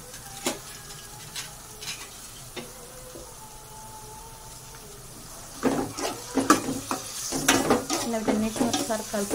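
A utensil stirs onions, chillies, tomato and tamarind in a pan: quiet sizzling with scattered scrapes at first, then a burst of busier, louder clatter and mixing sounds toward the end.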